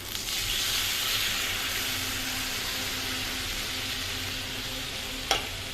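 Vegetable curry with pointed gourd bubbles and sizzles steadily in a pan, a close, even hiss throughout with a single brief clink near the end.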